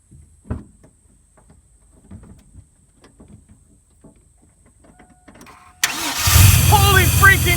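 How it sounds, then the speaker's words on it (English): A GMC race truck engine cranks briefly and then fires, roaring to life loud and close as it settles into a rough, revving run after a quiet stretch with faint shuffling and scattered sounds. "We're just gonna try to turn it over and see if she starts."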